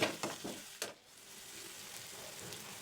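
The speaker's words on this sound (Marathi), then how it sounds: "असं टोमॅटो आपला परतून झालेला आहे" Chopped tomato sautéing in a pan for a Maharashtrian matki usal, a soft steady sizzle of frying with a few brief stirring scrapes near the start, close and fairly quiet.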